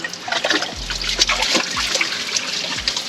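Spring water trickles and gurgles into a small mountain stream in the humid Sierra de la Laguna of Baja California Sur, a close, steady babble with a few deeper splashing plops.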